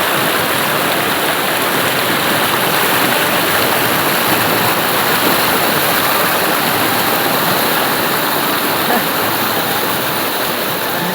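Water in a swollen stream rushes continuously, a loud, broad roar that holds steady from start to end.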